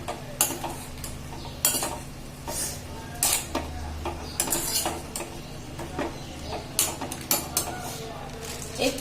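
Cauliflower stir-fried in a pan with makhana and crushed peanuts, a spoon or spatula clanking and scraping against the metal in repeated bursts over a low background hum, with faint frying beneath.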